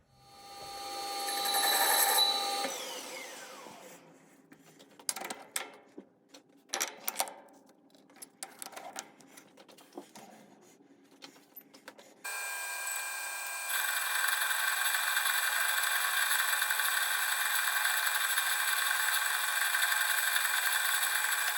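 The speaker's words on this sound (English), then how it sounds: "I'll deburr the edge with a deburring tool." A handheld deburring tool scrapes around the cut edge of a metal tube in short, irregular rubs and clicks, followed by a steady, loud hiss-like mechanical drone.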